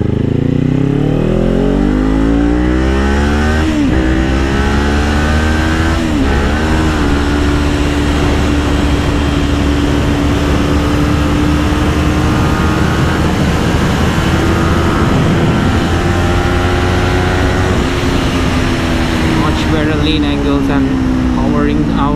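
A 2019 Kawasaki Ninja 400 motorcycle powering out of a corner, its loud engine note climbing steadily through the revs over a long stretch, up close and alone.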